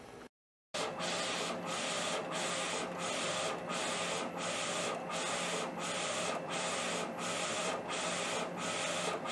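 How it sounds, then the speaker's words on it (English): A DTF printer printing a design onto film, with a loud, steady mechanical rasp from the print head and short regular pauses each time it reverses, after a brief silence at the start. "So we're gonna try printing this thing one more time."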